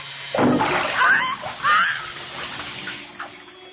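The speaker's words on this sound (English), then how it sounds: "Oh, no, not in the water, Charles." Splashing water in a radio drama sound effect, a few loud sloshes and splatters close up in the first two seconds, then softer dripping with faint voices underneath.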